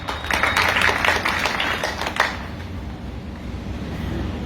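A small gathering of about ten people claps at a community meeting in Bihar, with a brief, sparse burst of hand claps in the first couple of seconds that fades into quiet background noise.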